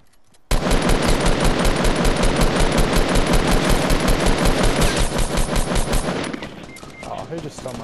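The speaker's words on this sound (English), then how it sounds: "Oh, shots at me." Loud sustained automatic gunfire in Fortnite hammers away almost without pause for about six seconds before it thins into scattered shots and fades.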